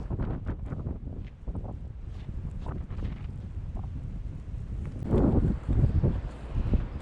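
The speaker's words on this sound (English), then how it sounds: "Said the wind was going to be blowing." Strong wind blows steadily through an Iowa blizzard, a constant rushing roar buffeting the microphone, with louder gusts swelling in the final seconds.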